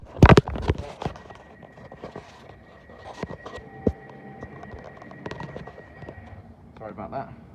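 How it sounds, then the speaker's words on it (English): A phone dropped while recording on a TfL Rail train at a station: a sharp, loud clattering thud at the start, followed by handling noise and quieter knocks under background voices. "Another mistake of me dropping my phone."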